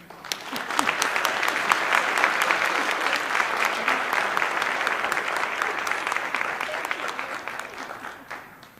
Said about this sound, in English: we wanted to just give her a quick round of applause and say thank you